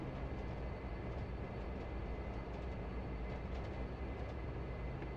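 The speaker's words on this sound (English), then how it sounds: "So APU's on." Steady low engine drone of a Dash 8 auxiliary power unit running in Flight Simulator X, a constant broadband rumble with no voices.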